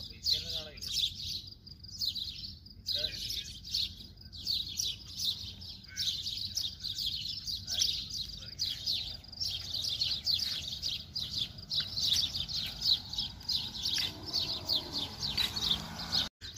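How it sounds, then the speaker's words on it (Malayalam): Birds singing among trees in the early morning, with dense, overlapping chirps and tweets from several birds running continuously at moderate distance, above low background hum and occasional faint talk. "ഇവിടെയുള്ള പക്ഷികളുടെ ശബ്ദങ്ങളൊക്കെ കേൾക്കാം കേട്ടോ"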